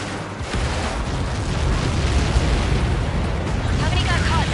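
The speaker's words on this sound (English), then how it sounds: "How many got caught in that explosion?" A massive explosion in the jet combat game Ace Combat 7 roars as a loud, sustained rumbling blast that fills the whole moment, with heavy low-end rumble and no clear pause.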